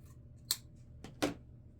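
Scissors trimming ribbon for a patriotic deco mesh wreath, three crisp close snips spaced about half a second apart, quiet and alone.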